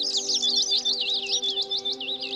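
Small birds on an island in the VR nature experience Nature Treks VR chirp and trill continuously in quick, bright warbling phrases, loud and close over a steady low hum.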